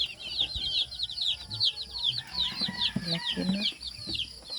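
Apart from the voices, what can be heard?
chickens and chicks clucking inside a chicken coop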